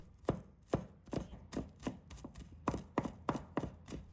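A knife minces crushed garlic in a quick, even rhythm of about a dozen sharp, separate chops, each one quiet and close, with no talking.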